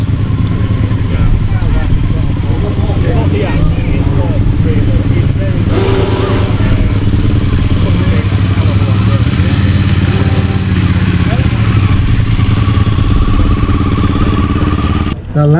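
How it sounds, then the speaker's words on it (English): A loud motorcycle engine idles and revs at an outdoor bike night loudest-bike contest, a continuous close, heavy rumble with rising throttle blips, crowd noise and talk mixed in. "The loudest bike goes to Graham."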